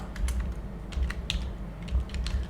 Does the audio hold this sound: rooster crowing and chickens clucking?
no